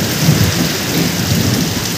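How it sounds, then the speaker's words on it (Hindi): A sudden thunderstorm pours heavy rain, a dense, steady hiss of falling water under a low rolling rumble of thunder, loud and close with no voices. "पूरा लाइटनिंग जा रही है, थंडरिंग जा रही है पूरा अचानक"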